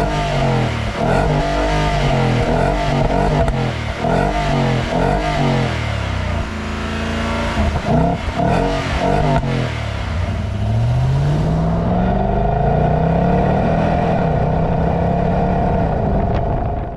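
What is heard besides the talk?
Nissan Patrol Warrior petrol V8 exhaust note while revving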